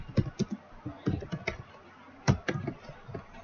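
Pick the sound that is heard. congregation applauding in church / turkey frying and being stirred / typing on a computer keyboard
typing on a computer keyboard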